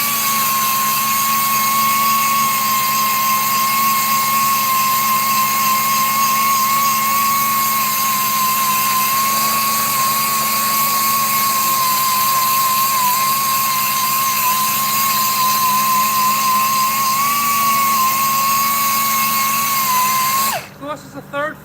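Power sanding of a custom e-bike hub on a lathe-style setup, a steady high-pitched whining tool tone running continuously and loud for about twenty seconds, then cutting off abruptly near the end.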